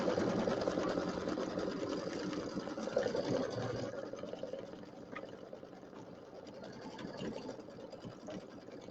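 A sewing machine sews out a quilt block in a long continuous run, a steady close mechanical hum with a dense rapid stitching texture that eases slightly toward the end.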